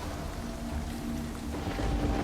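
Steady, dense rain hiss from the Path of Exile video game, a constant broadband wash with no pauses that fills the whole stretch and holds at an even loudness, with no talking over it.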